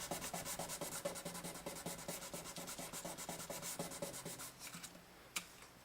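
A guitar fretboard is sanded by hand with 2000 grit sandpaper in quick rhythmic back-and-forth rubbing strokes, close and soft, ending with a brief pause and a small tap.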